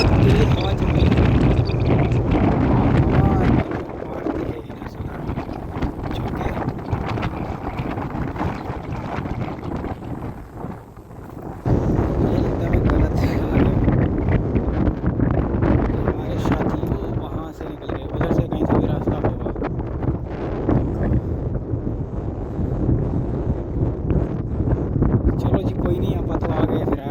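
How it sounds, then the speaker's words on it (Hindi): Strong wind buffets the microphone outdoors on a steep hillside climb along the Narmada Parikrama pilgrimage route, a loud, continuous roaring rush that briefly dips and then returns, with someone talking over it. "बहुत तेज हवा चल रही है।"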